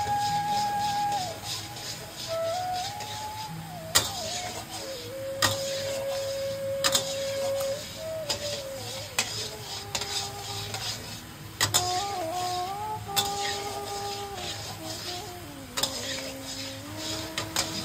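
A spatula repeatedly scrapes and knocks in a pan while Shantipur Nikuti sweets are fried dark with constant stirring, making sharp, regular clatters under a steady musical background.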